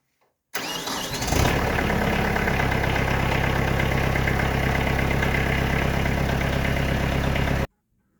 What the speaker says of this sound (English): So let's start this up